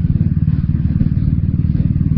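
A Royal Enfield Bullet motorcycle engine thumps close and loud in a steady, rapid single-cylinder rhythm, each low beat distinct under a rough mechanical clatter, with no voices.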